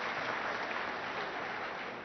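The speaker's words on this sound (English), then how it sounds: "please give yourselves a round of applause" An audience applauding at an awards evening, steady dense clapping that holds at an even level for the whole stretch with no voices over it.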